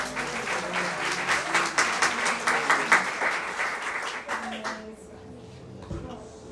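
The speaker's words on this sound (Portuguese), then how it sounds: "Dê uma salva de palmas ao Senhor." A church congregation claps and applauds loudly for several seconds during a service, with some voices in the crowd and a few sharp claps, then the applause fades out quickly.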